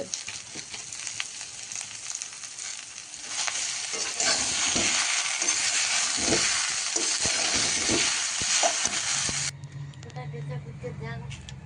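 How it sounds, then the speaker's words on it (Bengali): Chopped spinach goes into a simmering kohlrabi curry, bringing steady sizzling and scraping stirring in the pan that swell in the middle and then ease, while people talk throughout. "পালং শাকটা এবার তরকারিতে দিয়ে দেবো"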